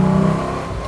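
A 1964 Pontiac GTO restomod with a cammed engine idles, heard from inside the car; a brief, loud, lumpy low rumble that eases slightly within a second.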